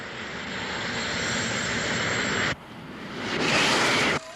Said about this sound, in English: Enemy fighters approaching at high speed,